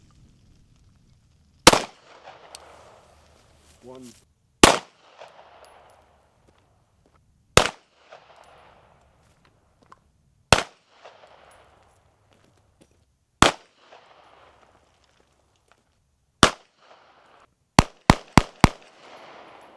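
Pistol gunshots at an outdoor range while testing XS minimalist night sights: sharp loud cracks spaced about three seconds apart, then a quick triple burst near the end, each trailing a short echo, with light wind and a brief spoken word.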